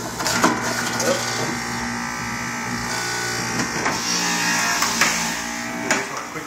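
An electric juicer grinds whole apples with a steady, loud motor whine and crunching, splintering fruit sounds throughout, with occasional sharper bursts as pieces feed in.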